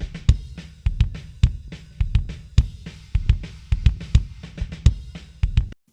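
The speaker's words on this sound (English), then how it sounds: "So we've got one kick microphone, sounds like this." Kick drum captured by a single kick microphone in a song mix, playing a driving pattern of punchy, boomy hits with fast double strokes, loud and close, heard alone.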